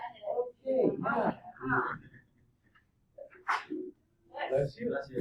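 A single sharp sneeze from a person in a quiet room, set between stretches of nearby conversation.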